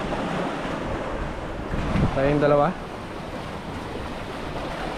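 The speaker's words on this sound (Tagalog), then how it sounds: "Grabe yung lakas ng alon." Heavy sea waves crash and roar continuously along an island shore, with wind buffeting the microphone; someone speaks briefly partway through.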